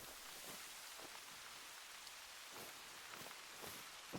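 Steady rain pattering on surfaces in theHunter: Call of the Wild, a soft continuous hiss with scattered drop taps, faint and even throughout.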